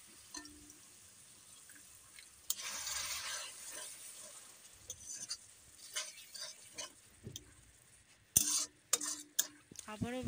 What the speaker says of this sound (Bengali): আবারও ভালো মতো মশলাটিকে কষাতে থাকবো যতক্ষণ পর্যন্ত তেলটা মশলার উপরে উঠে না যায়